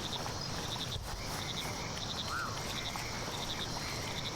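Frogs croak in the video game Mudborne: short, bright chirping calls repeat in quick pairs at a regular pace over a steady, soft ambient bed, with one brief rising call partway through and no talking.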